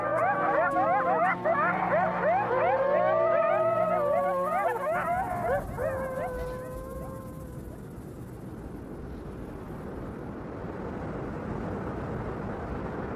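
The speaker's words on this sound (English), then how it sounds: "This group howl means they're all still buddies." A pack of coyotes in Yellowstone joins in a group howl, many overlapping yips and wavering howls layered together, loud at first and then fading out into quiet wind after several seconds.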